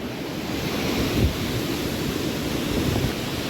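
Small waterfalls beside Kundamala temple near Pune, Maharashtra, give a steady, dense rush of falling and flowing water, close and constant with no voices.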